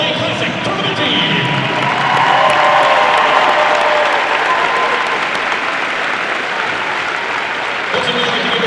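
A packed arena crowd at the 2020 All-A Classic boys' basketball championship applauds and cheers loudly, a thick continuous roar of clapping and voices that swells midway and stays steady.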